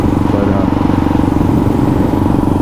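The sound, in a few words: Kawasaki KLR650 motorcycle engine running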